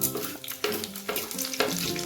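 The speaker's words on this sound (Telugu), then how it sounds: "ఆయిల్ వేడెక్కింది, దాంట్లోకి తాలింపు వేసేస్తున్నాను. ముందుగా ఎండుమిర్చి, తాలింపు గింజలు యాడ్ చేస్తాను." Dry red chillies and tempering seeds hit hot oil for a brinjal fry, giving a steady crackling sizzle with bursts of spitting and stirring scrapes, close and fairly loud, with no talk.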